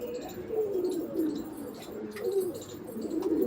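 An Andhra pigeon, a breeder hen kept in a home loft, coos close by in soft, repeated low rolling calls, with no talk over them.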